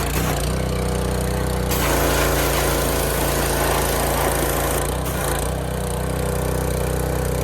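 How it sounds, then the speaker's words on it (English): A pressure washer's engine runs loud and constant beside a 2002 Dakota frame being cleaned, with a steady mechanical drone and a broadband hiss that shifts slightly in tone partway through. "working on the pressure washer"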